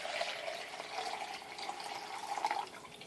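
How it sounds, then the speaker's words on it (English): Water poured slowly from one container into another, a soft continuous trickle and splash running steadily for a few seconds, close by and fairly quiet with no talking. "You're going to dump that water into two here very slowly, while keeping it nice and balanced."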